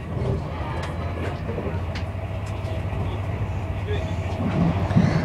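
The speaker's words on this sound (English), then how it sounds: "we're back on the Virgin train service back to Milton Keynes Central." Virgin train running on rails toward Milton Keynes Central, heard from inside the carriage: a steady low rumble and rolling roar with faint rattles, continuous and fairly loud throughout, with some soft voices in the background.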